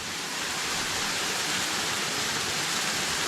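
Cascada Doña Elba, a waterfall in the Altas Cumbres of Córdoba, gives a steady, dense hiss of falling water, broad and unchanging, with no other sounds over it.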